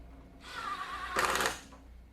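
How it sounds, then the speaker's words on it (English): A power drill drives pocket hole screws into wood while building a tabletop game table, giving a short whirring spin about a second long that rises to a louder, harsher burst before stopping. "I go through with more pocket hole screws, and I attach the top cap to all the blocks that are sticking out all the way around"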